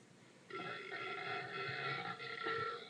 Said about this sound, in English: one more minute of burping.